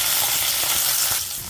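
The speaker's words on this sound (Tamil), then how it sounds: "இப்போ வேர்க்கடலையை போடுறோம்." Peanuts hit hot oil already tempered with mustard seeds, curry leaves and green chillies, giving a loud close sizzle and crackle that holds steady before easing slightly.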